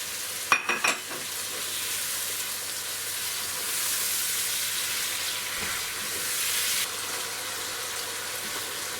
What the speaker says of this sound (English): Now I'm going to put in the tomatoes.